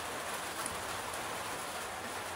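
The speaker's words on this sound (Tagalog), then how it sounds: "Ulan!" Steady rain falling outdoors on an October day in the Philippines, a continuous soft hiss of drops on surfaces, fairly faint and even throughout, with no talking.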